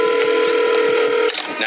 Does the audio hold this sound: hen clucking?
no